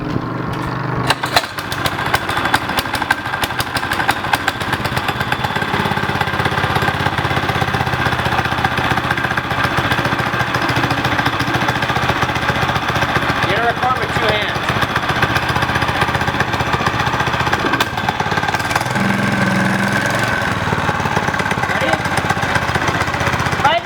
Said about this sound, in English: I'm gonna be controlling it with my hand on the engine itself